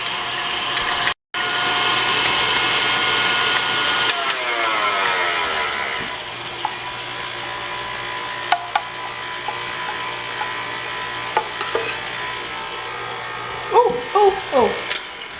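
An electric mixer whirs steadily through batter for a Reese's poke cake, a loud continuous motor drone with a brief cutout early on, followed by lighter clicks and knocks.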